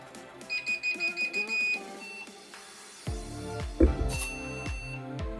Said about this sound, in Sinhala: දැන් මම ට්‍රාන්ස්මීටර් එක ඔන් කරගන්න නැවත.